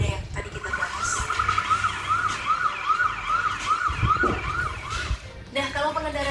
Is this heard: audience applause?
no